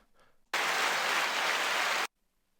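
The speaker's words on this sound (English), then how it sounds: "Applause." A burst of applause from a small group starts abruptly, holds steady for about a second and a half, then stops cleanly.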